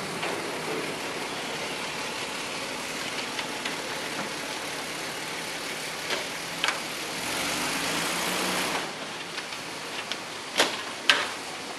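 A car idles and creeps slowly onto a Renegade stacker trailer, giving a low, fairly quiet engine rumble. A few sharp clunks and knocks sound toward the end as it settles into place.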